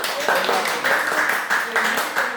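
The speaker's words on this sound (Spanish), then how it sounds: "Eso merece un aplauso para el Señor" A church congregation claps together for a missionary's preaching. The applause is dense and even, with voices and cheers rising over it.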